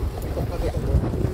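Wind rushes steadily past a sailing boat, buffeting the microphone in a brief, low, rumbling gust with faint voices underneath.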